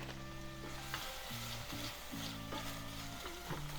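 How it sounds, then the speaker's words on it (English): Onions cooking in a pot give off a steady sizzle and crackle, with a low mechanical hum and clicking beneath; no talking. "I love the smell of onions cooking up."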